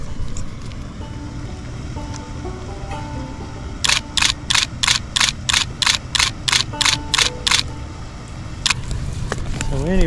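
A Nikon D300S DSLR camera shutter fires in a rapid burst of about a dozen sharp, evenly spaced clicks, then one more, photographing a passing boat over a low engine drone outdoors.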